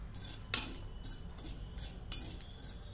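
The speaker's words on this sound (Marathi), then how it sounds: "खसखस भाजत आहोत" Poppy seeds dry roasting in a pan, heard as a few light scraping and clinking strokes of a spoon against the metal over a quiet background, with no talking.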